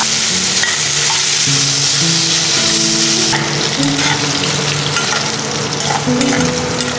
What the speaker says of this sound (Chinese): 我们小火慢慢的把油逼出来